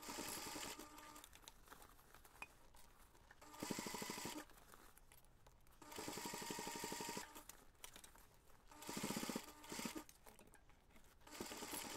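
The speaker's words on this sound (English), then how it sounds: "I'm going to take this to the machine and simply top stitch around this top edge" A sewing machine runs top stitching along a bag edge in several separate bursts of quick needle chatter, with quieter pauses between runs.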